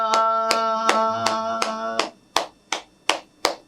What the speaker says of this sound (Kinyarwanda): tumukomera amashyi umukama Yesu Kristo